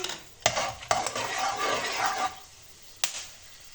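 Whole spices dropped into hot cooking oil, a couple of sharp clinks followed by a bright rushing sizzle that fades, then another knock of a utensil on the pan.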